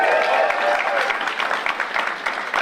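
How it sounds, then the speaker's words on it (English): Brief applause and cheering from a comedy club crowd for a performer, lively clapping with distinct individual claps and crowd noise, and a voice briefly audible at the start. "Round of applause, please, for Mark."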